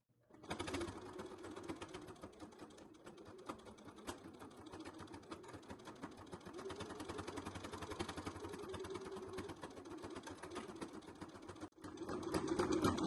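A sewing machine stitches a twill scissor holder, running steadily and close for most of the stretch, then reversing briefly to backstitch and lock the seam at the end.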